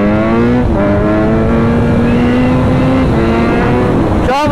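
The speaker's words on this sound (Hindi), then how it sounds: "गियर शिफ्टिंग देख रहे हो" KTM RC 390 motorcycle engine loud and close, holding a steady high pitch that steps through gear changes, with a sharp burst of revving at the end.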